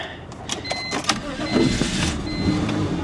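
A BMW 325ci at a Copart salvage yard, nearly out of fuel, cranks with a whirring starter and catches into a low running note, heard close amid clicks and rustling.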